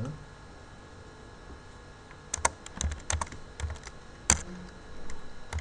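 A folder name is typed on a computer keyboard while saving a QGIS map project, giving a short run of close, uneven key clicks that follows a quiet pause, with no talk.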